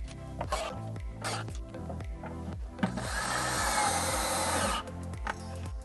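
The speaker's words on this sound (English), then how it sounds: "And I'm going to screw the bucket" A power drill drives screws to fix a bucket to a shop vacuum cart, first in short repeated whirring bursts and then in one longer, steady buzzing run, close by and fairly quiet.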